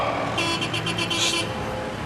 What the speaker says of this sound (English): Traffic's horrendous.